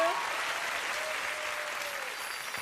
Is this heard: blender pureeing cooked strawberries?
no